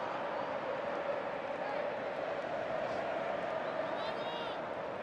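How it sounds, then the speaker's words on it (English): A football crowd of Argentina supporters fills a Houston stadium during a quarter-final against Ecuador, making a dense, steady roar that holds at an even level for the whole stretch with no breaks. "At times it has been a nervous Argentina crowd in Houston tonight."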